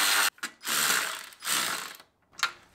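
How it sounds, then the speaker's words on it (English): A 1/4-inch ratchet loosens a 10mm bolt on a 2024 ZR2 truck with a 3.0 Duramax engine. Three loud, close bursts of rapid clicking come in quick succession, with no talking. "I got my 1/4-inch ratchet here. We have a 10mm bolt down here."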